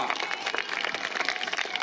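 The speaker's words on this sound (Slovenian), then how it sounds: "Dajmo še enkrat en velik aplavz za Vida Petolina" Applause from a crowd at an athletics stadium in Maribor for a junior runner's 2000 m national record, a dense steady patter of clapping that holds at a moderate level.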